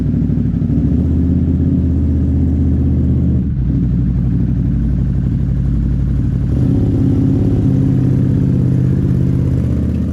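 A GNCC pro 4x4 racer with a newly installed front differential idles and runs steadily close by, its loud, continuous engine drone broken by a brief dip near the middle before resuming with slight revving.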